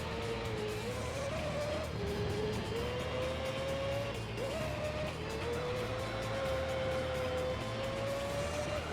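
Mazda 787B race car in Gran Turismo 3: a steady, high rotary engine whine holds throughout, its pitch dipping and rising with shifts and corners, loud and continuous.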